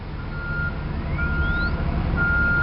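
A Megger HT1000 copper line tester's built-in speaker plays a frequency sweep during a load coil check, a thin rising tone gliding upward over steady beeping tones and a constant low hum.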